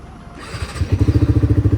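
A motorcycle fitted with a loud exhaust on a mountain trip in Himachal revs up from a low rumble into a fast, even train of throbbing pulses, close and loud.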